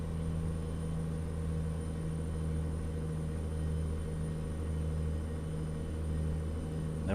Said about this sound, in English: We got Z mods for the sounds for the engine.